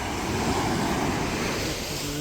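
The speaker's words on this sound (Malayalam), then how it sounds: "ഇതാണ് ഗായ്സ് മുന്നക്കൽ ബീച്ച്" Waves on Munakkal Beach, a steady rushing surf roar mixed with wind buffeting the microphone, loud and continuous without distinct breaks.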